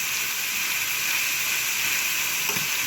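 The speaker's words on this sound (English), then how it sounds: "Just going to keep sauteing that up" Bok choy and other vegetables sauteing in a pan for pad Thai, a steady close sizzle and hiss with a brief stir or clink near the end, no voices.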